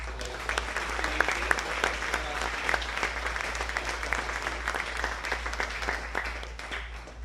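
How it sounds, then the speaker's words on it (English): A crowd at a high school sports honors event gives a short round of applause, with individual claps standing out over a low steady hum. The clapping is moderately loud and tapers slightly at the end. "a short round of applause for Alex"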